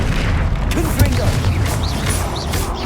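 Confringo, a fiery explosion spell in Hogwarts Legacy, goes off during a troll attack: dense rumbling booms and blasts under a raised voice, with a fast chirping game effect near the end.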